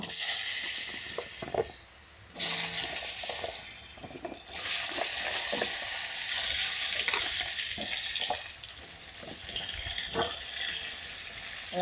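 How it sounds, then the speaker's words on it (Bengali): Potatoes fry in oil left over from frying fish, a steady crackling sizzle interrupted by stirring clatters and brief pauses. "আলুটা একটু ভালো করে ভেজে নেব।"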